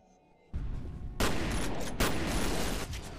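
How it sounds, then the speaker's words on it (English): Shotgun blasts in the game F.E.A.R. Extraction Point, a quiet start broken by a heavy boom and then further loud, booming shots with a sustained roar of combat noise behind them. "shoot him with the shotgun"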